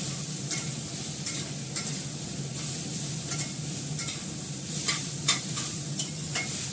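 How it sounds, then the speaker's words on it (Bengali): Chow mein noodles stir-fried in a hot pan over lowered gas flame, a steady close sizzle broken by repeated scraping and tossing strokes of the spatula. "এবার চাউমিনটা দিয়ে দেবো।"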